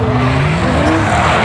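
Loud, close tire squeal and engine roar from a drift car sliding during a night drift session, a continuous screeching skid lasting the whole moment.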